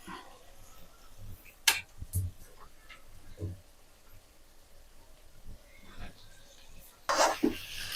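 A spoon stirs okra fry in a pan with a few scraping knocks against the metal, some louder clatters near the start and end, and a soft sizzle beneath; a voice speaks briefly.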